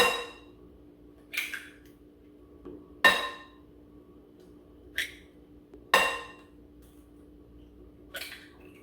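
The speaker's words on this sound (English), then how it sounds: "So let's crack them." Eggs are cracked against a bowl for fresh homemade pasta dough, giving several sharp, close taps and clinks spaced a second or two apart over quiet background, with no one speaking.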